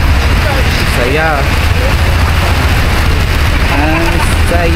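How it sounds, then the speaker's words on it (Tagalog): Rain falls on a Hong Kong street, a dense steady hiss with traffic rumble beneath, while people talk over it. "Naligo sa ulan sa Hong Kong."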